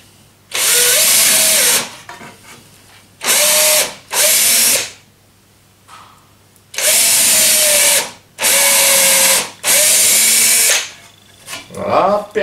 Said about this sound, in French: Vous prenez votre perceuse Parkside et vous faites un trou là.